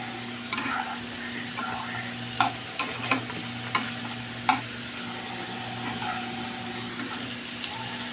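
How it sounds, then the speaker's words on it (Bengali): Carrots and beans stir-frying in a pan for veg fried rice, a steady sizzle broken by several sharp clacks and scrapes of a spatula against the pan, with no talking. "এটাকে একটু ভেজে নেব।"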